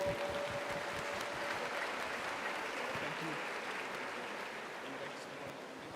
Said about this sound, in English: Can we have a big round of applause for Dr. Tiwari?